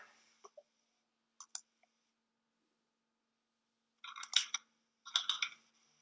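Computer mouse clicks come in small, isolated bursts against near silence: a few sharp single clicks early, then two denser clusters of clicking toward the end, all close and fairly quiet.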